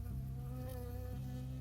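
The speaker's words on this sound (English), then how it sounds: "I got stung by a bee." Bee buzzing in the video game Firewatch, a close, steady insect drone with a sustained hum throughout, loud and alone.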